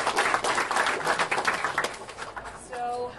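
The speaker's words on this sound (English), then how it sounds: "So give a warm applause for Sanne and Chloé." Warm applause from an audience at a design systems talk night, a dense burst of clapping that thins out toward the end as a voice begins.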